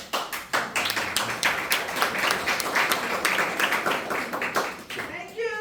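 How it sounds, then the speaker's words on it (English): Audience members at a public meeting clap in a loud, fairly close burst of applause with some distinct individual claps, and a voice comes in briefly at the end. "I knew I was gonna get the clap from the back"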